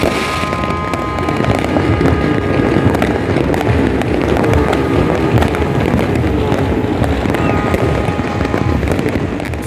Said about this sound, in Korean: 앙헬레스 전 지역에서 일제히 폭죽이 발사됩니다